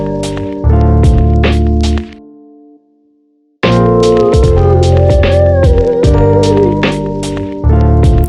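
Lo-fi hip-hop music plays, drops out to near silence for about a second, then returns with a wavering, slightly detuned melodic line over the beat.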